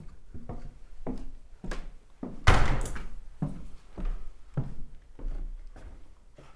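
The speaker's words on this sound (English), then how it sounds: "Slamming the door." Door slamming in an old hall, one heavy loud bang in the middle amid a series of softer knocks and thuds, echoing in a quiet room.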